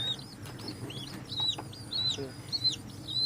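A bantam chicken clucking close by, with a run of short, repeated rising clucks and chirps over low background noise.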